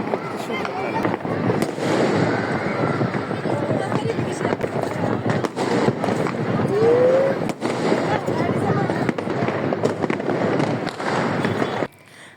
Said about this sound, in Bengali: আমরা খাওয়া দাওয়া করে ছাদে গিয়েছিলাম আতশবাজি দেখতে।